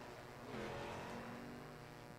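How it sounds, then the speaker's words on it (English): Race cars circled a track in the iRacing sim racing game, a steady engine drone with a rising, revving swell in the middle, fairly loud and continuous with no voices. "Cars sound awesome out on the track."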